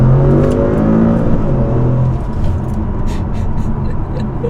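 An Audi S6 fitted with a billet transmission upgrade accelerates hard, its engine note rising loud and close for two seconds before settling into a steady, rough drone.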